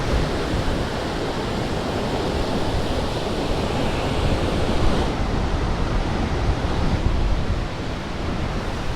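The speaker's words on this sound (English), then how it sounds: "Welcome to Norway's most visited waterfall" A steady, dense roar of Norway's Vøringsfossen waterfall fills the whole stretch, broadband and continuous without pause, with a slight swell of wind noise.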